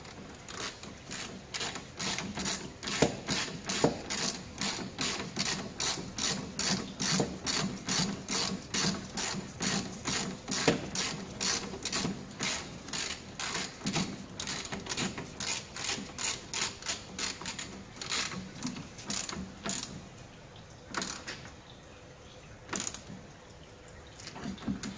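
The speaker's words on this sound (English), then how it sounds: "we just need to do the bottom bolt and then tighten up the upper wishbone" Steady, rapid clicking of a hand ratchet tightening the upper wishbone bolts on an Alfa Romeo 147/156/GT, close and continuous, with brief pauses between strokes near the end.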